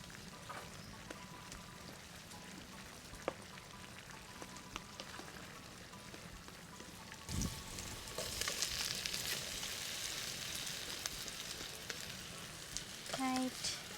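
Channa frying in a pot of stew gives a faint, continuous sizzle with scattered spoon scrapes and knocks as it is stirred, growing a little louder partway through.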